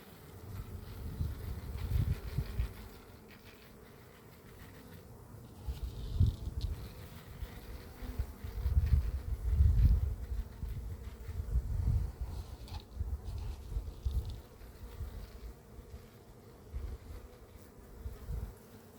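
Honeybees hum around a pollen feeder in a low, swelling drone that rises and fades as they fly around nearby, with some wind rumble and no speech.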